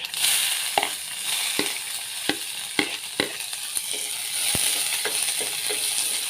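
Onion dropped into hot oil with cumin seeds sizzles steadily in a pan for a milky Punjabi sabji, with a spoon stirring and clicking sharply against the pan every second or so.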